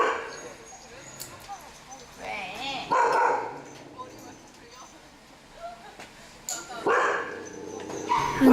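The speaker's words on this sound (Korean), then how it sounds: "저희 제작진은 보리와 같은 유기견들이 지내고 있는 경기도의 한 유기견 보호소를 찾았습니다." Several dogs at an abandoned-dog shelter in Gyeonggi Province bark and yip in scattered bursts, some close and loud and some farther off, with a few whimpers between them.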